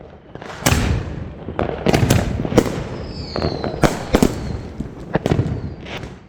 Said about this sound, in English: That shell's fuse had been shortened by the amount that was connected to the quick fuse, and it went off very fast after I lit it.